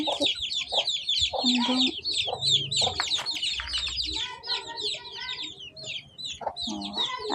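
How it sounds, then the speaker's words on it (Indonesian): A group of backyard chickens clucks and chatters continuously nearby, with overlapping calls and occasional louder squawks. "Ayam guys."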